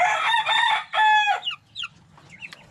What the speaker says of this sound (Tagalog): Sisiw pa.